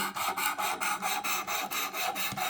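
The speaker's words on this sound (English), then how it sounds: "you're just going to do a sharpening motion back and forth" A fixed-blade knife drawn back and forth across a diamond sharpener, a rapid, even run of about ten gritty scraping strokes, close and continuous.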